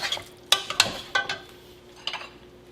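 Plating lemongrass chicken in a home kitchen, with sharp clinks of cutlery and dishes: several distinct close taps and scrapes spaced irregularly, with quiet pauses between.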